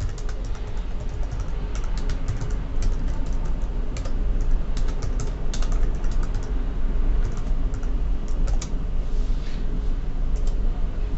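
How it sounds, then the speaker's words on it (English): Fast, steady typing on a computer keyboard, with dense close clicking key presses running continuously under a low background hum and no talk. "I don't want to have you sit around and watch me type"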